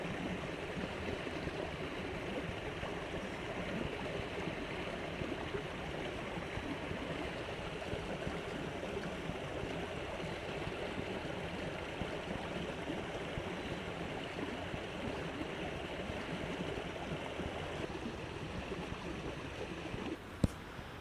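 Sawmill Creek flows near a waterfall in a steady, unbroken rush of water that holds an even level throughout, with no voices and only a small knock near the end.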